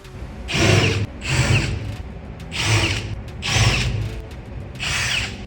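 A power drill bores into a pipe aboard a ship, biting in five loud, close bursts of roughly half a second to a second each, separated by short pauses.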